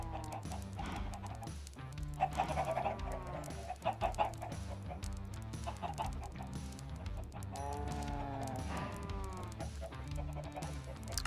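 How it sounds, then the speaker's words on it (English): Chickens cluck in a Minecraft survival multiplayer world, a dense, steady stream of clucks from several birds together, with a low musical backdrop running under them throughout. "the chickens in here are just, this is becoming out of control"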